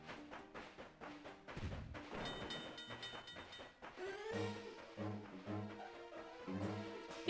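A train rolls along in The Legend of Zelda: Spirit Tracks with rhythmic chugging and whistle-like tones, mixed with bright game music and no speech.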